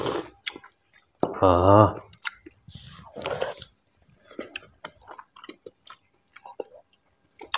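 Someone chews and eats kochu leaf chochchori with mango chutney, served on a banana leaf. Soft, wet chewing and slurping sounds come close up in short bursts, with brief speech between them.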